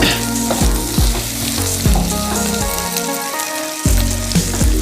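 Onion tempering sizzles and crackles steadily in a hot pan, with the sharp clack of a spoon striking the metal several times as it is stirred, then a short lull before the frying noise returns.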